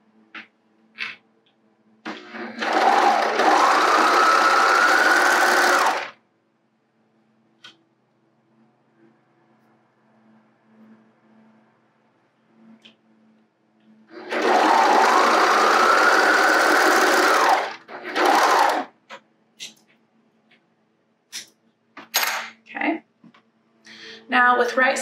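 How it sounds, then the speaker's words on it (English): A sewing machine stitches the inseam of boxer briefs in two bursts of a few seconds each, close and steady, separated by quiet handling of the fabric with soft clicks and rustles. "we're going to stitch this little inseam right here on both pieces"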